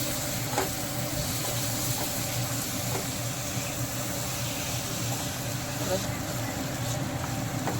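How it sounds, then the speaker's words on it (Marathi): Dal frying in hot oil in a pan for a Marathi dodka (ridge gourd) dish, a steady close hiss with faint stirring scrapes throughout. "तेलामध्ये आता यामध्ये डाळ घालत आहे डाळ घातलेली आहे"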